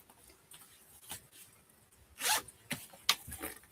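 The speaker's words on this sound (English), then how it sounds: "so you zip it up." A crochet hook case is zipped shut, giving several short, close zipper rasps, with one longer pull in the middle and quick tugs after it, and no talking.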